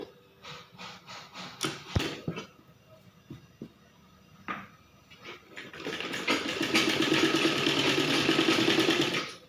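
A sewing machine stitches piping around the edge of a frilled baby frock, starting with a few short clicks and brief taps before settling into a steady, close, whirring run of stitches.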